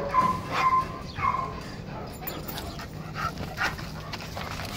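A young female puppy yips and whimpers in short, high bursts, several in quick succession, close by with some faint background noise.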